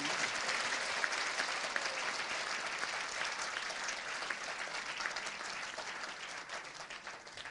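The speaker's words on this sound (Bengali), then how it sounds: "আশা করি সকলে একটা জোরে হাততালি দিয়ে তাদেরকে অভিনন্দিত করবেন।" An audience claps steadily and loudly for mayoral candidates at a Dhaka talk-show event, a dense, even round of applause that holds for several seconds with no talk over it.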